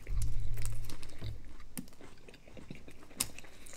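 Someone chews a crunchy Taco Bell shredded beef taco up close, with irregular crisp crunches, crackles and wrapper crinkling over a low rumble, and no clear speech.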